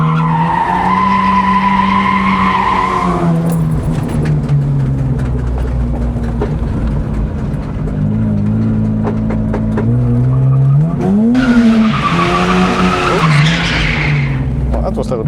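A manual car drifts at Achna speedway in Cyprus, its engine roaring continuously while tires squeal and skid in long sweeps, loud and close, with people talking over it.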